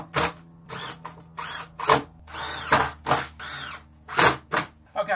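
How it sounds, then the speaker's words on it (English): A power drill bores through plywood in a string of short, loud bursts with brief pauses between, roughly a dozen quick runs over a few seconds. "drill through again, 25-30mm in there, and then screw straight down."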